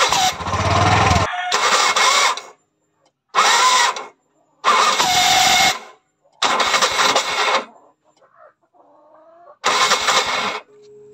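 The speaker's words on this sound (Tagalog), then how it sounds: "kakaiba yung tunog niya tuwing ini-start natin siya, parang lumalagapak yung ating starter" Bajaj RE tricycle with a faulty starter, cranked in repeated bursts of harsh, rattling, slapping noise separated by short pauses, loud and close with no talking over it.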